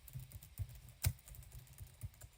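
Quiet keystrokes on a computer keyboard, a steady run of soft clicks with one sharper, louder press near the middle, close and alone without any talk.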